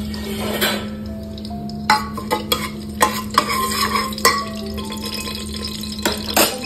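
Cinnamon, cardamom and bay leaf fry in hot oil in a pressure cooker for pulao, with a soft sizzle under sharp clinks and scrapes of a spoon stirring against the metal pot, arriving in irregular bursts.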